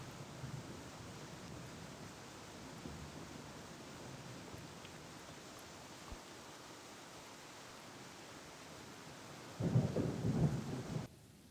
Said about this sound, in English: the rain was annoying me